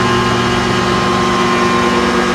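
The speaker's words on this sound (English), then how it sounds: "That's the motor humming." An electric motor on a free energy demonstration device hums steadily and loudly, a constant drone with stable tonal bands throughout, close by and with no talking.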